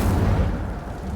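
Incendio fire spell from a Harry Potter video game, set in a cave, bursting in a loud low rumbling whoosh that slowly fades over about a second.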